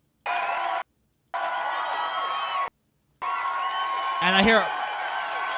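A large crowd gives loud applause and cheering for Liz Mitchell, with the roar cutting out abruptly in two silent gaps and a voice rising over it near the end.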